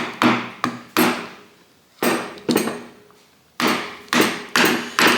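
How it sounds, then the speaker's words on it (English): Sharp metallic taps and knocks on the lock tab of a gearbox sprocket on a 1979-1984 Harley-Davidson 4-speed rotary top gearbox, about ten close, loud strikes in irregular bursts with brief pauses between them. "So we're just going to undo our little lock tab."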